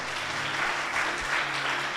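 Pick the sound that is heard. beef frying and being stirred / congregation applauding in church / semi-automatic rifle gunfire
congregation applauding in church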